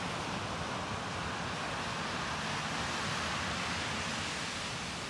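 Sea waves wash onto the shore on an evening walk along an empty off-season beach, a continuous soft rushing and rustling roar with no clear breaks. The sound is steady and moderately distant, with no voices.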